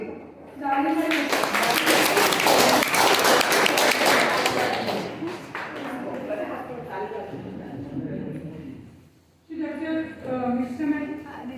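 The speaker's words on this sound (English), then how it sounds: "round of applause for Rotarian Pranam Mahapatra" A university workshop audience gives a speaker a round of applause: loud, dense clapping for about five seconds that fades out, followed by a person talking.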